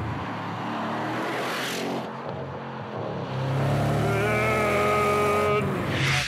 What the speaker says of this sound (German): dann bollert dieses Auto vom allerfeinsten V8 Sound